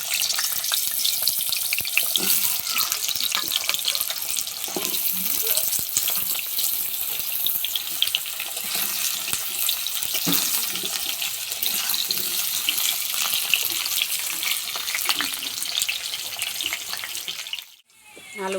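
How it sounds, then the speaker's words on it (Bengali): Potatoes frying in hot oil in a kadai (wok), giving a steady, dense hiss and crackle that runs nearly unbroken before stopping abruptly near the end. "তেল গরম হয়ে গেছে, এবার আমি আলু দিয়ে দেবো, আলুগুলো ভেজে নেবো"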